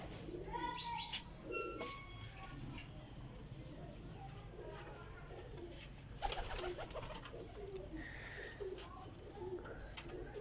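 Sialkoti pigeons coo repeatedly in a loft, their soft throaty calls mixed with occasional chirps over a steady low background hum.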